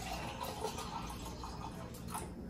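A juice smoothie is poured into a cup, giving a soft, close, continuous liquid trickle with faint drips.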